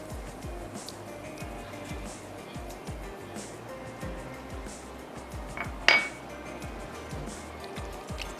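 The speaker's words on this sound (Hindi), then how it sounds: "दही ऐड करते ही अच्छा सा मिक्स कर लेते हैं ताकि दही फटे नहीं" A spoon stirs yogurt into chicken white karahi in a metal pot, making rhythmic scraping and soft knocks against the sides, with one sharp clink near the end.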